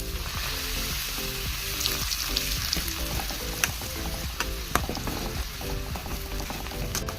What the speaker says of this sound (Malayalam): ഒരു ചീൻചട്ടി വെച്ച് വെളിച്ചെണ്ണ വെച്ചിട്ട് നമുക്കിനി അരിഞ്ഞു വെച്ചിരിക്കുന്ന പപ്പടം ഇട്ട് കൊടുക്കാം.